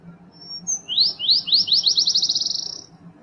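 A small bird gives a brief high note, then a rapid trill of chirps that speeds up and fades, clear and close over a low background hum.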